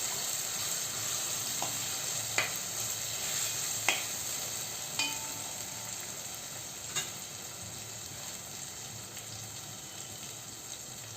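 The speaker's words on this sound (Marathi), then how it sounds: "कांदा मसाला घालूया एक चमचा आणि आता हा छान परतून घेऊया" Onion masala stirred and sautéed in a pan for street-style spicy usal: a soft, steady sizzle runs throughout, broken by a few sharp spoon taps and scrapes against the pan.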